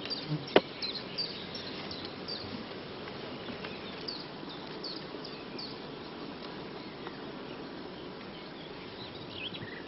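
Honey bees buzz over hive frames during a colony inspection, giving a dense, continuous hum close by with a few brief louder buzzes near the start and no talk.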